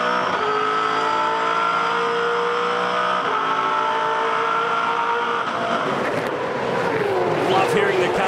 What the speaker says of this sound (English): Love hearing the cars on the run to turn 8.